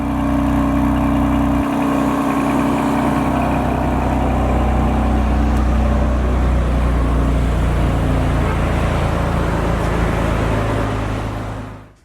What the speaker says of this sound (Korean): 가속 페달을 쭉 밟으면 왕 하면서 마치 대답하는 듯이 차가 팡 튀겨나갑니다